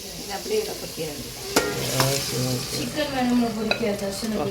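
Mutton sizzles and bubbles in a pot while biryani is cooked, with a close, continuous frying crackle, occasional stirring knocks, and faint voices underneath.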